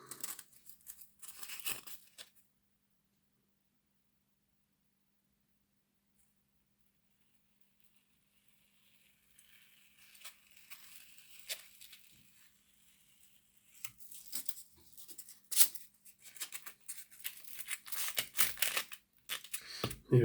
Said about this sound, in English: we need to trim it down a wee bit more.